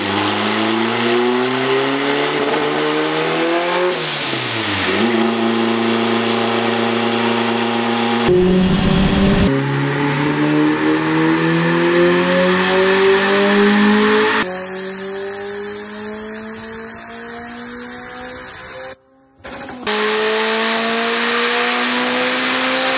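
A turbocharged K20-swapped VW Beetle revs hard on a dyno, engine pitch climbing steadily through repeated loud pulls with brief drops at gear changes and a high turbo whine layered over the roar.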